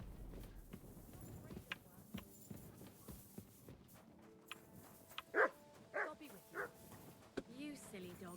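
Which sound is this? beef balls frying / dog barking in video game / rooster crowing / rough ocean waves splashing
dog barking in video game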